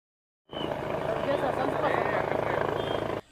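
A chief minister's helicopter at a roadside helipad on the outskirts of Lingasugur cuts in suddenly, and its engine and rotors hold a loud, continuous roar with a faint pulsing chop for about three seconds before stopping abruptly.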